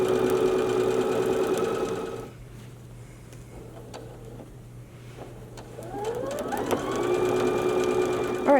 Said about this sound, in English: we're going to go through and sew down all of those lines